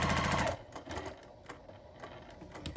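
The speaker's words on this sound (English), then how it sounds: "we're going to sew with a 1/4 inch across the bottom of the pocket" Sewing machine stitching a pocket seam on a zipper pouch, a fast dense whir of stitching for about half a second, then stopping, leaving faint handling clicks and rustle.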